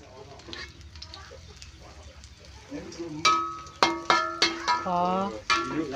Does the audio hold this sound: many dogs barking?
no